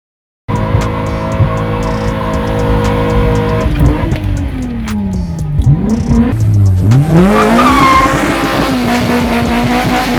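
A car with a 260hp naturally aspirated engine spins out, a loud engine roar that sags and surges while tires screech in rising and falling squeals, close and with no one talking.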